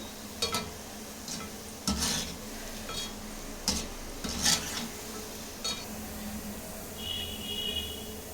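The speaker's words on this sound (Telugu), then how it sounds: "మెల్లగా కదిలియాలండి ఇలాగా ఇలాగా కదిలియాలి రౌండ్గా మంచిగా కాలాలి" Gulab jamun frying in a pan, gently stirred, heard as soft scrapes and occasional light clinks over a steady low frying hiss, with a faint beep near the end.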